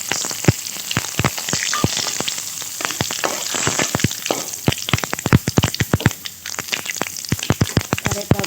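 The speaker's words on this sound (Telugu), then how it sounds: "మిగిలిన నూనెలో తాలింపు వేసుకున్నాం" Mustard seeds, dal, cumin and curry leaves temper in hot oil, a loud dense crackle of rapid pops and spits over constant sizzling, close and busy throughout.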